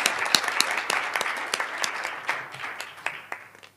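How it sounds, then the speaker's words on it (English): Audience applause after discussant presentations at a forced migration conference session held jointly with the World Bank: a room of steady clapping with sharp individual claps standing out, fading toward the end. "So let's have a round of applause for those."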